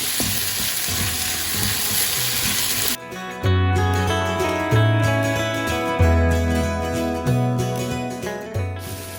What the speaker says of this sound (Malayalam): ഇനിയിപ്പോൾ ഇതെല്ലാം കൂടി ഇട്ടിട്ട് നന്നായിട്ടൊന്ന് വഴറ്റിയെടുക്കാം.